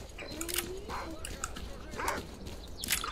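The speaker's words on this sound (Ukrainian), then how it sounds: "Диви, які живучі собаки дикі." Wild dogs in the video game S.T.A.L.K.E.R. Clear Sky yip and bark in short scattered bursts amid combat noise and clatter, close and moderately loud, with a whine in between.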